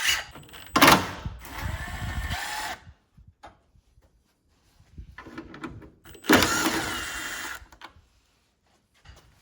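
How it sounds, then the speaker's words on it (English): A power tool backs out 10mm bolts on the headlight of a 2015 Ford Mustang 3.7L V6. It sounds as two short, loud whirring bursts separated by a quiet pause with faint clicks and handling noise. "you're gonna take out the 10mm bolts"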